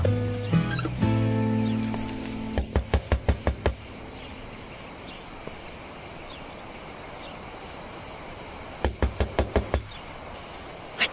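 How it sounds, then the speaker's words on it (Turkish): Two quick runs of about five sharp, evenly spaced knocks on a door, the first near the start and the second near the end, set over a steady loud chirring of crickets. "Çalın kapıyı."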